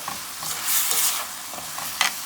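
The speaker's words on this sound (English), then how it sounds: "And I give this a stir" A spoon scrapes and stirs vegetable biryani with ginger garlic paste in a pot, soft sizzling under a few brief scraping strokes, close and fairly quiet.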